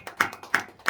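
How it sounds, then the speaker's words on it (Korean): Church congregation clapping during a service: three quick, evenly spaced claps in unison, close and fairly loud, over in under a second. "영광의 박수 하나님께 드립니다."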